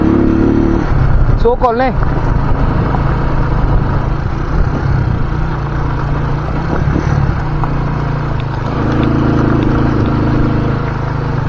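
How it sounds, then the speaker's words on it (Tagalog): A farm motorcycle engine droning steadily and close while riding a rough road up to a mountain viewpoint, with a rider speaking over it. "Ang agis ng motor."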